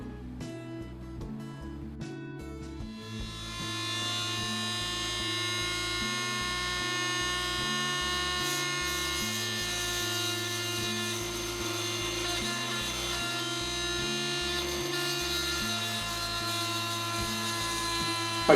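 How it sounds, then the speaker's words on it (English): A Dremel rotary tool in a drill workstation bores through a rivet into the metal body post of a die-cast Austin van model, a steady high-pitched whine after a few stuttering starts, constant and close throughout. "I'm using my Dremel and workstation to get a vertical hole."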